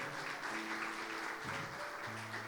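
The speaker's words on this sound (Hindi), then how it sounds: "जोरदार तालियां खुदावंद के लिए।" A church congregation applauds in a steady, dense burst of clapping, fairly distant, with a faint tonal hum running beneath.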